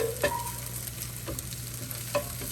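An egg frying and being stirred in a pan, with a steady low sizzle and a few short scraping stirs near the start and end, close by and without talk.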